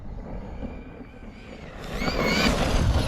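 The brushless motor of an FS Racing Atom 6s RC buggy whines and whizzes, a steady high whir that swells louder and brighter toward the end with no talk.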